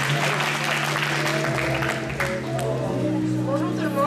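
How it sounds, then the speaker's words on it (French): An audience applauds steadily at an event after a speaker is called up, dense clapping under crowd murmur and voices, with some tonal sound running beneath. "je vais appeler d'abord la sœur Anya, sous vos acclamations. s'il vous plaît"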